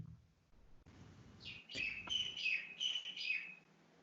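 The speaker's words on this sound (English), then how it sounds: "Oh, birds are really nice actually. Singing." Several birds chirp and sing outdoors in a bright, fluttering run of short phrases, fairly close and clear over quiet background, rising to a lively burst before trailing off.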